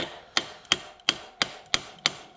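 A tool taps on the chain adjuster of a DR650 motorcycle, seven sharp metallic knocks at a steady, even rhythm, close and clear with no talk.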